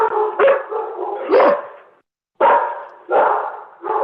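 A dog barking and yipping in a burst of several sharp, close barks, with a short pause before more barks follow.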